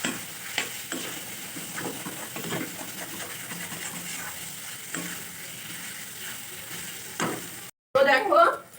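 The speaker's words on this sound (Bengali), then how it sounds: "এটা আমি খুব ভালোভাবে কষে নিচ্ছি" Jackfruit and potato pieces are stir-fried over low to medium flame, a soft continuous sizzle broken by scraping stirs, with a brief louder clatter near the end.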